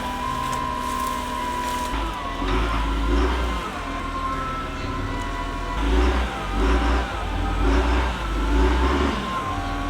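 Front loader's diesel engine labours while turning a compost pile, rumbling steadily with repeated surges and revs as the bucket digs and lifts, close and fairly loud.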